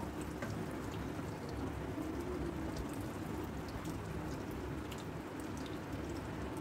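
Marinated butter chicken pieces, coated in spice masala, fry in melted butter in a pan while being browned on both sides for tikka, giving a steady, dense sizzle that holds even and close throughout with no talking.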